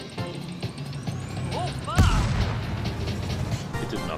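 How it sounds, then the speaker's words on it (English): A single sharp grenade blast from Star Wars Outlaws thuds out near the middle, loud and close, with someone talking before and after it. "Can I throw a grenade at it?"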